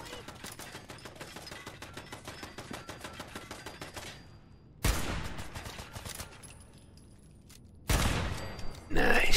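Steady rapid gunfire in Fallout 4 aimed at a turret, a fast even rhythm of shots for several seconds, followed by two loud heavy blasts with rumbling aftermath.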